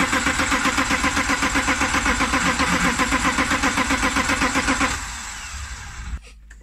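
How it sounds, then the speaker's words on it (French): A BMW E30 engine cranks with a rapid rhythmic starter chugging, then settles into a rough idle before cutting off; close and fairly loud. "on va essayer de le redémarrer et faire un petit test routier"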